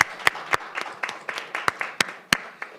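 Applause at a county council meeting after a resolution is adopted: a small group clapping in distinct, unevenly spaced sharp claps, close and fairly clear, over a quiet room.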